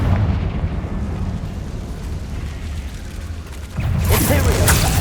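A Confringo fire spell blasts in the Hogwarts Legacy video game, a low rumbling roar building under steady background noise before a sharp, louder explosive burst near the end.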